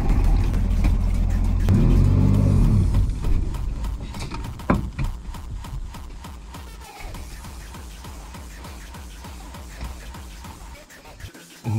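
Truck engine revving and pulling away as it is driven, a loud, close rumble that swells early on and then fades into lighter rattling and road noise, with some talk mixed in.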